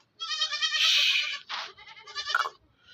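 Goats at a goat farm in Karachi bleat close by, several wavering, nasal calls in quick succession, loud and clear against a quiet background with no talk.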